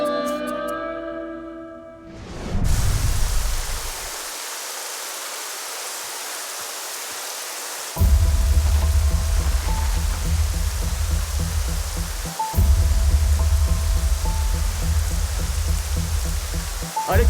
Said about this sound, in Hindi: बारिश बहुत तेज हो रही है, संभल कर जाना